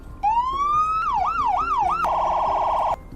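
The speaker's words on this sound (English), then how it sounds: "Here are the sirens." Roblox Greenville's WSP police car variant runs its siren: a rising wail, then rapid rolling yelps, then a fast pulsing phaser tone, loud and steady with no voices.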